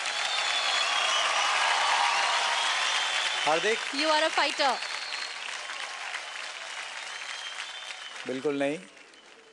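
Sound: audience applause on a dance show

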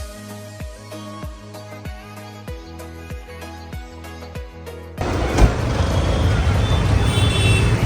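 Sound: private car driving on the road

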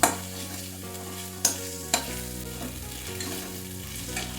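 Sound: stirring onion, ginger, garlic and green chilli in pan

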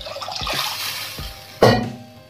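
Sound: water being poured into a pan of sugar

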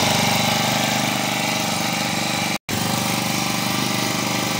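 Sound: engine-powered spray pump running

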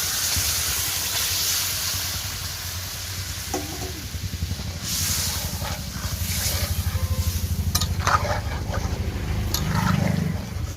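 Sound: curry frying and being stirred with tomato in pan

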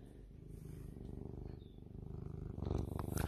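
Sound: cat purring

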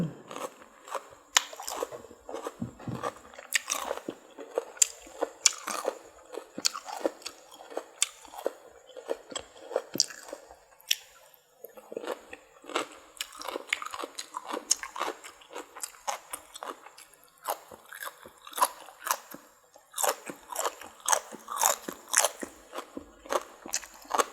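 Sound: eating spicy cucumber salad with bitter gourd, crunchy chewing

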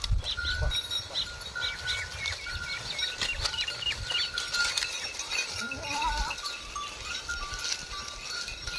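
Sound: goat kid bleating

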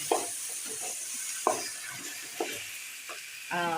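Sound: okra being stir-fried (sautéed) in a pan

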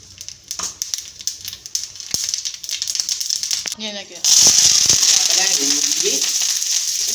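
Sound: mustard seeds spluttering in hot oil

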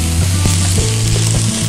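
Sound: stir-frying rice for nasi goreng pattaya in a pan

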